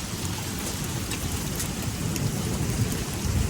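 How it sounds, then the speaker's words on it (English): Heavy hail and rain pelting down steadily during a night storm in Kansas, pea-sized stones mixed into a dense, continuous roar of falling water with scattered sharper impacts close by. "And it's hailing."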